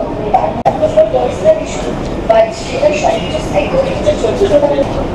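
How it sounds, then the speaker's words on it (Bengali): A Kolkata Metro Green Line train pulls into Phoolbagan station, its low rumbling roll and hum steady beneath nearby people talking, with a sharp click partway through. "মেট্রো আমাদের ঢুকে গেছে এখানে, এটাই শিয়ালদার দিকে যাবে।"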